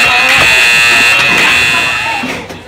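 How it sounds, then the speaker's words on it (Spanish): An alarm buzzes loudly with a steady electronic tone for about two seconds and then fades, with people talking around it. "Suena la alarma."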